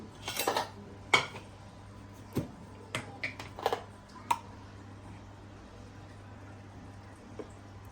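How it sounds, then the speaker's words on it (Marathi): A spoon clinks against a glass while stirring honey into milk, a quick cluster of light metallic taps and scrapes at first, then sparser clinks trailing off into quiet. "थोड्या फिरून घेतो जेणेकरून हनी चमचीची जी आहे ती निघून जाईल"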